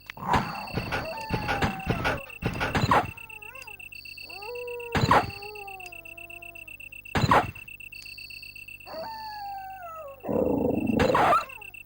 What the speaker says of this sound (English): we can hear that there is a Cerberus waiting for us in this hallway